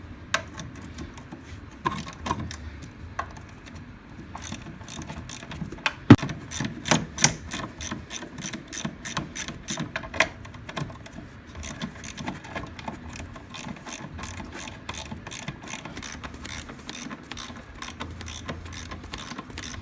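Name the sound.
ratchet removing half-inch bolts on Polaris snowmobile chain case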